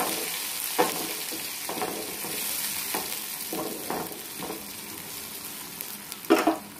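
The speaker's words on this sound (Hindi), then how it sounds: "प्याज का पेस्ट ऐड कर दिया है," Onion paste frying in a pan for a bottle gourd peel dish, with steady sizzling and periodic scraping strokes of a spoon stirring through it, a sharper clatter near the end.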